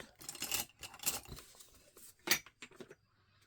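Scissors snipping through crafting paper up close, a handful of short crisp cuts separated by pauses and small handling rustles, quiet with no speech.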